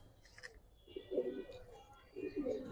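Indian pigeons coo in two soft, low, rounded bursts close by, with a faint high chirp just before them and a quiet background.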